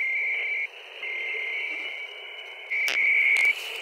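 Steady high-pitched VARA HF digital modem tones from an ICOM IC-705 radio drone continuously, with brief gaps and a louder burst near the end, like an old dial-up connection.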